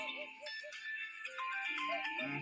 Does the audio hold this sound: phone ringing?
yes